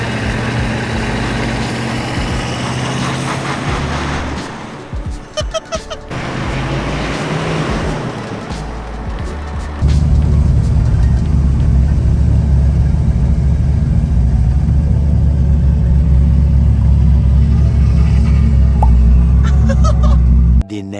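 Ford F-250 pickup engine revving while being worked free, with deep, loud engine roar that steps up sharply and holds steady after a brief lull, no talking.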